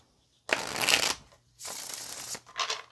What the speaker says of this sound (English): Yeah, one more shuffle.